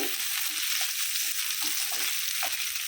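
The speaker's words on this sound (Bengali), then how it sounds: "কিছুক্ষণ ভেজে নিচ্ছি রসুন" Minced garlic sizzles in hot oil with fried chilies and a pinch of cumin powder in a pan for a beef bhuna, a steady close crackle with a few soft stirring knocks and no talk.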